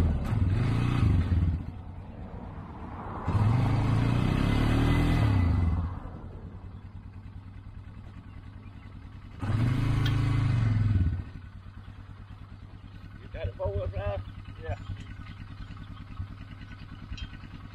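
A four-wheeler engine winching a stuck Exmark Lazer Z mower rises in three loud revving surges with a quieter idle between them, and a few light clatters follow near the end.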